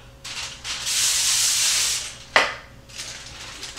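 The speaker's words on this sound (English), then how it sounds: "and then just lightly spray" A short hissing burst of cooking spray onto non-stick foil, steady for about two seconds, then a brief clank and a second shorter spray, close up.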